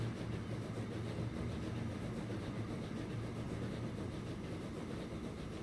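Steady rumble of a train running in the Transport Fever 2 video game, a continuous low mechanical drone with faint rhythmic wheel clatter, even and fairly close, with no talking.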